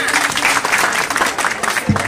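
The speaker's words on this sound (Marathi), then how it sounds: "आणि टाळ्या वाजवा ना." An audience at a school alumni reunion gathering claps in a steady, close burst of applause, with a voice briefly audible at the end.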